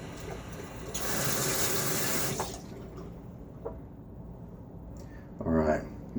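Tap water runs into a sink for rinsing during a wet shave, a close rushing splash for about two seconds, then quieter drips and small splashes with a brief burst of water near the end.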